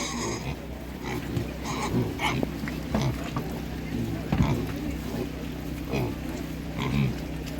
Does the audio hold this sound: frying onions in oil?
no